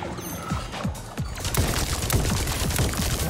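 Automated turrets firing in Atomic Heart: a steady, rapid string of sharp mechanical shots hammering on for several seconds, loud and close, with no talking over it.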